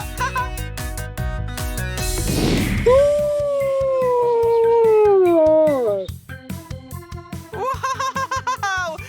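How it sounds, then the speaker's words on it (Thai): A wolf lets out one long, loud howl that rises and then slowly falls over about three seconds. Bouncy cartoon music plays before and after it, and a voice can be heard. "เมื่อกี้หมาป่าหอนครับ"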